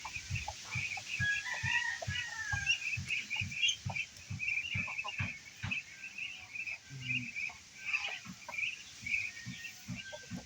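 Black Australorp chickens on a free-range farm cluck and call steadily throughout, with a dense chorus of hen noises and bird chirps layered near and far.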